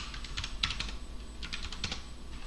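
Commands are typed on a computer keyboard in quick, light clicking bursts with short pauses between them, close and fairly quiet, with no one talking.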